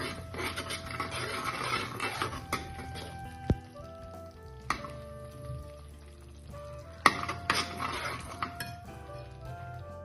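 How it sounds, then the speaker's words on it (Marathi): A pan of red pasta sauce is stirred and sautéed, with a spoon scraping and clinking against the pan at intervals over a low sizzle. The sounds are close and fairly quiet, with no talking. "आणि याला चला अजून 1-2 मिनिटं छान परतून घेऊया."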